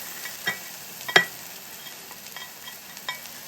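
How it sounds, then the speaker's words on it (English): Garlic fries in oil on a low setting to make garlic oil, a soft steady sizzle with a few sharp scrapes and stirs against the pan, close by, and no voices. "I'm just gonna make garlic oil"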